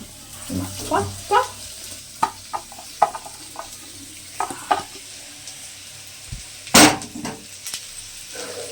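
Pre-fried potatoes and eggs go into a hot pan, with a low sizzle under irregular knocks and scrapes of a stirring utensil and one louder clatter near the end.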